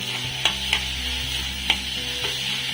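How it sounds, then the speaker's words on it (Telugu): Ginger garlic paste fries with onions, green chillies and curry leaves for a spicy egg curry, a steady soft sizzle under a low hum, broken by a few sharp spoon scrapes against the pan. "అల్లం వెల్లుల్లి పేస్ట్ అనేది పచ్చి వాసన పోయేంత వరకు వేయించుకోవాలండి."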